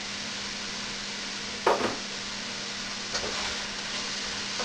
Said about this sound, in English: put that in my skillet. Get that all frying up.